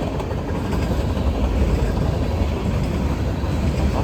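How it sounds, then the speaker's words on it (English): A Norfolk Southern train rolls past close by on the Charlotte District, a loud, dense rumble with rattling wheels that holds steadily throughout. "Following right behind this train is 241."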